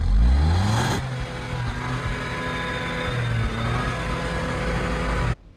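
Maruti Fronx 1-litre three-cylinder turbo petrol engine revving close by, a loud rising roar that drops at about one second, then holds at a steady drone before cutting off near the end.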